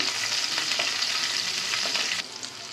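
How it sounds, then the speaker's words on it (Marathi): Chopped green chillies and cumin fry in hot oil, giving a steady, loud, close sizzle with a few light stirring scrapes and crackles throughout. "मिरच्या छान आपण फ्राय करून घेऊया।"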